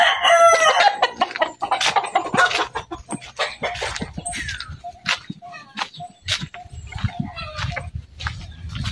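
Backyard chickens clucking busily at close range while a rooster crows, with rapid overlapping calls and pecking sounds over a steady farmyard bed.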